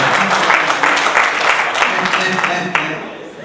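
Applause from guests at a civil wedding ceremony, a dense steady patter of clapping that fills the room, with a voice speaking over it briefly near the end.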